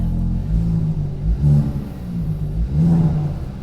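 A Kia Proceed GT's 1.6 turbo petrol engine revs in low, throaty surges through its sport-mode exhaust, rising and falling twice, close and loud with no talking.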